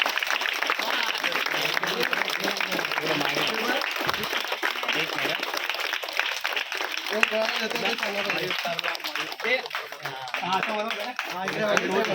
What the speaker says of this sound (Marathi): जोरदार टाळ्या पाहिजे तर